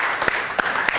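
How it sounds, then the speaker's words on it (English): Audience applause at a live creative workshop, a steady wash of many hands clapping with a few sharper individual claps standing out, fairly loud and close, with no talk over it. "Round of applause for Kate Hailey."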